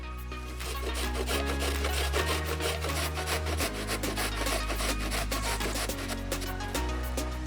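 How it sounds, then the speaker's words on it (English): Sweet potato being coarsely grated on a box grater, steady rhythmic rasping strokes close up, alone under background music. "I'm just gonna coarsely grate it on a box grater."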